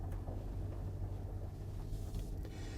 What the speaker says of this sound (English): You can just hear a hum from the petrol engine.